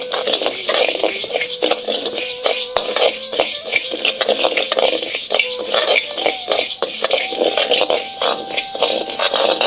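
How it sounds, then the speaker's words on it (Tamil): Moong dal and raw rice dry roasting in a pan rattle and scrape continuously as they are stirred, a dense, close clatter of small grains and utensil ticks at an even, busy pace. "50 கிராம் பாசி பருப்பு, 20 கிராம் பச்சரிசி ரெண்டையும் இப்ப நல்லா வறுத்து எடுத்துக்குவோம்"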